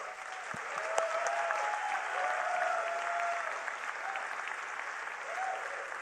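Sustained applause from a large audience for finalist startups at the Hult Prize 2019 event at the United Nations, steady and dense for about six seconds with a few faint whistles riding over it.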